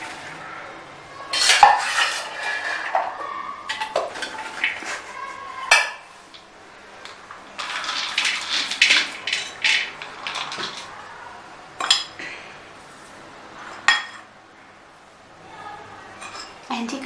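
Green mango pickle ingredients mixed in a bowl, irregular bursts of a spoon scraping and clinking against the bowl with quiet pauses between, close, with people talking softly at times.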